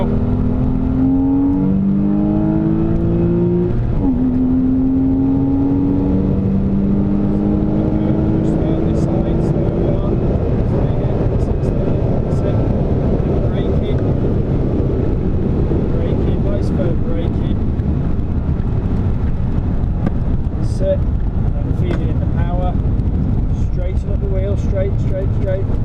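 A car engine held at full power around the Silverstone circuit, a steady loud drone with rising revving tones early on, heard from inside the cabin under wind and road noise.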